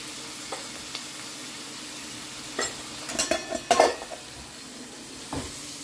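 Washed flattened rice (poha) going into a hot pan and being stirred, with faint sizzling and a cluster of metallic scrapes and clanks of a spoon against the pan in the middle, close by, with no speech.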